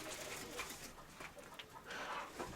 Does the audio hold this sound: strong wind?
no